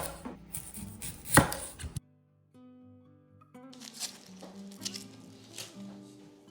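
A knife slices a red Cabernet onion into half moons on a board, with crisp close chopping strokes in a busy burst, then a short quiet gap and a faint tone before more rhythmic cutting resumes.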